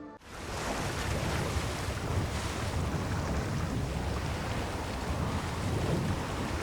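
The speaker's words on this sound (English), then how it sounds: "The water is choppy. This shaky old boat won't survive." Choppy ocean waves slap around an old, shaky wooden boat in the Assassin's Creed Shadows video game, heard as a loud, steady rush of surf and wind noise that keeps going with no talking.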